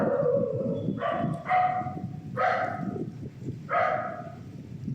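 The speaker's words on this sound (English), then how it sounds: "Sorry about my dog, it's barking a lot." A dog barks four times in a loose, uneven rhythm, fairly close but not loud, over a low, soft background murmur.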